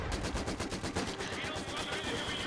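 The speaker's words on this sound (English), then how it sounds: "He has my guys kind of in the crossfire and is kind of shooting them" Rapid, dense gunfire and explosions from a Company of Heroes 2 battle between Soviet, British and US forces against Wehrmacht and OKW troops, a steady rattle of shots throughout with a faint voice underneath.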